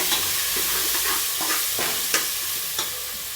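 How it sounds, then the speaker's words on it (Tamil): Red chili powder, coriander powder and garam masala stirred in a hot pan for chicken biryani, a continuous close sizzle with rhythmic spatula scrapes and a few sharp clinks against the pan. "மல்லித்தூள், கரம் மசாலா தூள் சேர்த்து நல்லா கிளறி விடுங்க."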